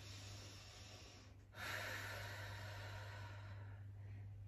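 Slow, deep breathing during a relaxation stretch, a quiet airy inhale that swells and then eases into a soft, sustained exhale close by.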